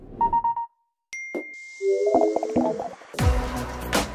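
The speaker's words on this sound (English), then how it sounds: "We've also created a new suite of sounds that are familiar to the Mac, but remastered and more refined." A run of short remastered macOS Big Sur alert chimes and tones: soft dings, a bright ping, bubbly blips and a final burst of rushing sound, loud and close with brief silence between.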